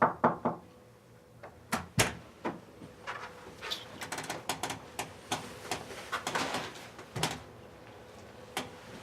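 A series of knocks on a door, sharp and fairly close, come in irregular clusters of two and three and then a quicker run of lighter raps, set against a quiet room.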